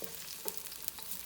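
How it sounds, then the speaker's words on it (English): Garlic stir frying in a pan over medium heat gives a soft, steady sizzle with a few faint scrapes of stirring, heard close up but quiet, with no voices. "Stir fry until it's brown."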